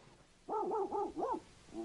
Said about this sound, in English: One long howl, two short, one yip and woof.